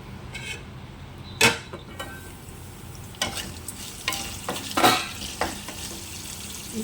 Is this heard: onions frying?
yes